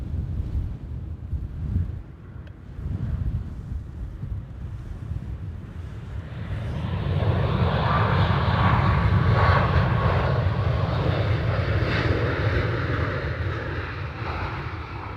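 A Boeing 747 at Dublin Airport roars in from a distance as its engine noise swells to a loud, steady rumble and stays there, with wind buffeting the microphone.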